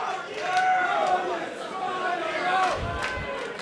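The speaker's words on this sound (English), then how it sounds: "Listen to the reaction of this sold-out crowd, Don." A sold-out wrestling crowd at the Tivoli roars and cheers in a loud, sustained wall of voices, with chanting and shouts swelling and rising throughout.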